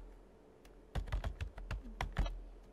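Python code being typed on a computer keyboard: a quick burst of crisp, close key clicks beginning about a second in, fairly quiet, with no talking.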